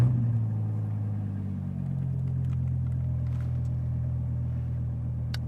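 2014 Dodge Viper engine running after startup, a deep steady idle rumble that settles after an initial burst, close and alone with a few faint clicks.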